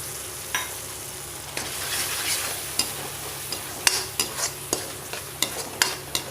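Ground spice paste and tomato sautéing in a pan, with a steady sizzle broken by repeated scraping stirs that grow more frequent toward the end; close and alone, no voices.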